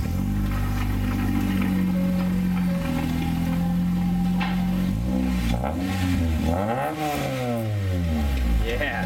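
An Acura RSX with a newly installed exhaust revs up, its engine note sweeping up and down in loud, close rises, with people talking over it.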